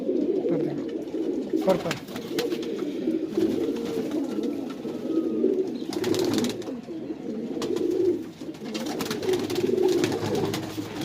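Madrasi pigeons coo in soft, low, repeated murmurs near the microphone, a steady throaty burble running throughout. Someone speaks briefly over it.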